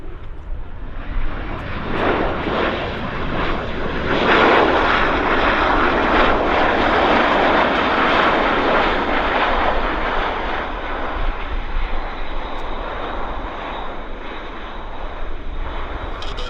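A Delta Airlines airliner on its takeoff roll at Vancouver Airport builds into a long, sustained jet-engine roar that swells loudly and then slowly fades, heard alone from a distance.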